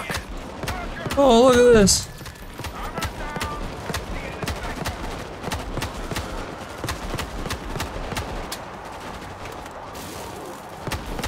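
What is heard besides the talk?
sniper rifle gunfire in video game World War Z: Aftermath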